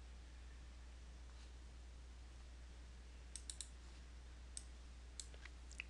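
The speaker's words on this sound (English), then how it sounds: "Now click this one." Several faint, sharp computer mouse clicks land irregularly in the second half over a low, steady room hum, with no one talking.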